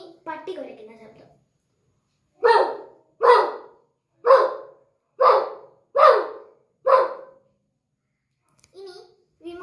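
A child imitates a dog barking with six short, sharp barks at an even, steady pace, close and clear, with brief speech before and after.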